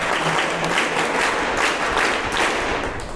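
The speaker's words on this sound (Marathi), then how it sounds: "सन्माननीय डॉक्टर श्रीरंग सांगलीकर सर यांच्यासाठी एकदा जोरदार टाळ्या" An audience at a school function applauds a guest doctor with loud, sustained clapping that fills the whole stretch evenly.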